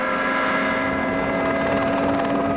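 A military helicopter engine starting up whines steadily with layered turbine tones and a broad rotor drone, loud and close, holding constant without voices.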